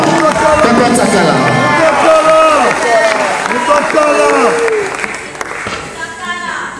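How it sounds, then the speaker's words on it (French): Audience applause and cheering at a Congolese film awards ceremony, a dense wash of clapping mixed with a compère's voice speaking over it, fading slightly toward the end. "Je vais inviter Papa Takala, Johnny, sous vos applaudissements."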